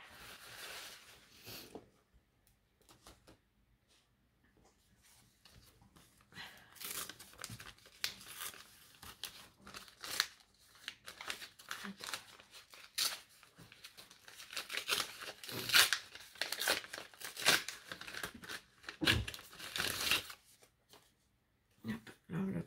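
A paper envelope being handled, with irregular crinkling and rustling bursts that start sparse and quiet and grow denser and louder, close by and with no voices.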